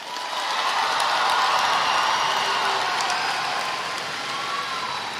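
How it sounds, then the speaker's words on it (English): A graduation audience applauds after the ceremony's walk across the stage, a dense, steady wash of clapping from a large crowd that swells in at the start and holds evenly for about five seconds. "give yourself a round of applause"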